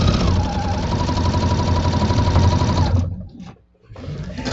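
Sewing machine fitted with a walking foot quilting fabric, running in a fast, steady mechanical whir up close, then stopping abruptly for a brief pause before starting again.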